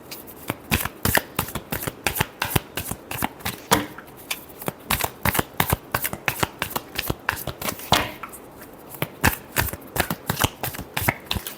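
A deck of tarot cards is shuffled repeatedly up close, giving a quick, rhythmic run of crisp riffling bursts and flicks that keeps going throughout, with no voices.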